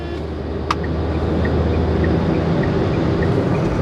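A car pulling hard in fourth gear to overtake on the road, its engine and road noise forming a steady, loud drone throughout, with one brief sharp click early on and no talking.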